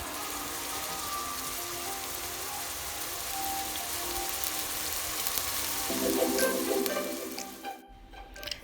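Onions frying in oil in a pan over low heat, giving a steady soft sizzle throughout with louder crackling near the end, alone without talk.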